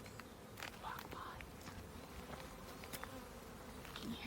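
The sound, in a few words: bees buzzing at a beehive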